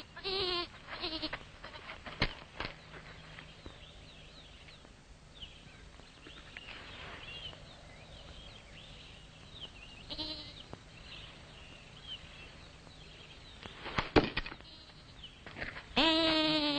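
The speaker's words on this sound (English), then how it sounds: "I was right. There are goats here." Goats bleat at intervals on an open hillside, with a few distinct cries at the start, middle and end over quiet ambient rustling and soft movement.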